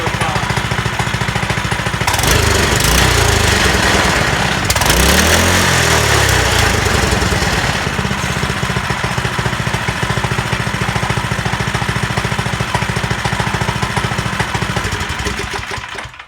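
Small gas engine on a Hammerhead Mudhead 208R go kart, under repair, running loud and close with a rough rattling drone, revving up under throttle in bursts and holding high for the whole stretch.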